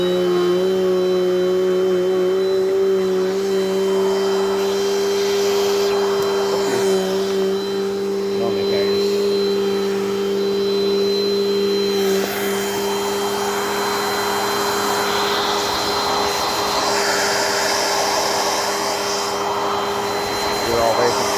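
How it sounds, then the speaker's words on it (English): A Dirt Devil Dynamite Plus vacuum cleaner runs steadily and loudly the whole time, a constant motor whine and airflow roar with a few faint bumps from cleaning. "Give me just a bit to turn the vacuum back on here."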